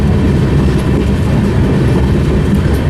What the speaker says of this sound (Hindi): अभी आप वैसा ही एक एल्को लोकोमोटिव देख सकते हैं।